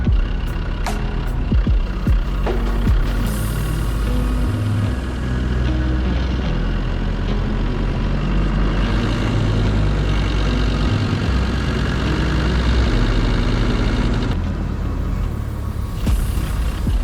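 An off-road vehicle creeps in first gear low range over a snowy Welsh track at Strata Florida, its engine giving a loud, steady low rumble throughout, with a few brief knocks and rattles near the start.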